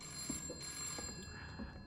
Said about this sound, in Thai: มีคนโทรศัพท์มา ข้างบนวะ